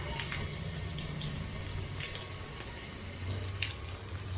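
A tap running on water fed by an on-demand booster pump, a steady, fairly quiet rushing flow with a low pump hum beneath it and a few brief splashy spikes.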